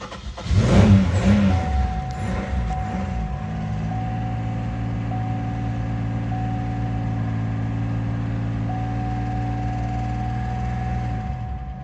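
A car called The Intimidator, just brought back to life, revs hard at first and then holds a steady, loud engine drone as it refuses to settle into idle, with no talking.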